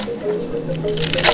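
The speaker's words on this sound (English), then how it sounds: "next I'm going to cut the cabbage and the snack bean" A knife chops cabbage into big chunks on a board, a close crunchy squishing of crisp leaves that grows louder toward the end of the brief moment, heard without any talking.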